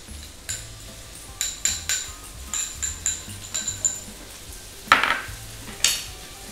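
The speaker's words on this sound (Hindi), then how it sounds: "थोड़ा देर स्टर फ्राई करें, सौते करें" Vegetables and onion stir-fried in a hot pan for Schezwan noodles, with repeated spatula scrapes and clinks against the metal in a rhythmic series over a soft sizzle, close up, plus two sharper bursts of sizzling near the end.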